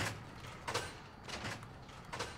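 A door in Fortnite Battle Royale being placed or opened, heard as a few soft broadband swishing bursts spaced about every half second to second, quiet and close with no talking.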